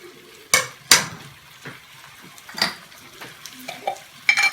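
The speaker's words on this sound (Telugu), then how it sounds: "సో ఇప్పుడు టమాటాస్ ఫ్రై అవ్వడానికి వేసుకున్నాము" Chopped tomatoes frying in a kadai for tomato pulao, a soft sizzle under sharp scrapes and clinks of a spoon stirring against the metal pan in irregular strokes.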